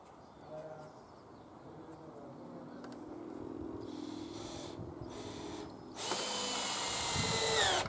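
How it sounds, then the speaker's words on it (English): A power drill drives screws into a wooden flower box in a workshop, with a quiet rising whir that builds into a louder, high-pitched spinning whine near the end. "I'm just putting two screws in either side, and I'm actually putting it inside the groove."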